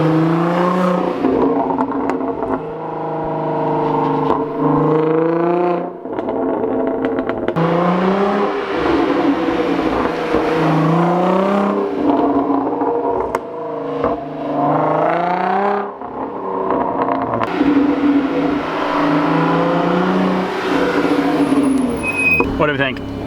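A car running a 034 Motorsports crackle tune revs repeatedly through the gears, engine pitch rising and falling in loud sweeps with brief gaps, while people talk excitedly over it.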